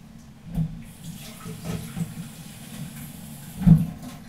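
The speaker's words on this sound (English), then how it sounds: "So that's where you put your water in, and this, according to the packet details, needs 130 millilitres of water." Water is poured from a measuring jug into a diet shake shaker in a kitchen, a steady low splashing trickle with a couple of louder gushes, close by and without talk.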